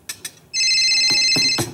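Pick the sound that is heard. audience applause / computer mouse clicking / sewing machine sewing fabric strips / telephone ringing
telephone ringing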